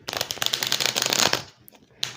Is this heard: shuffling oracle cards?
yes